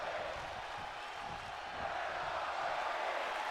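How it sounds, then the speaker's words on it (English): A wrestling crowd at a live match shouts and chants together, a dense, continuous roar of many voices that swells slightly louder toward the end. "You can hear the crowd"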